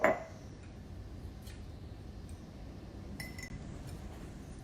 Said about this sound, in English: You take a glass jar,